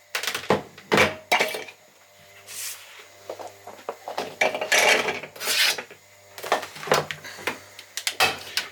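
Carrots chopped into chunks are ground in a food processor, giving close, loud, rough bursts of chopping and rattling separated by short pauses, with no talk.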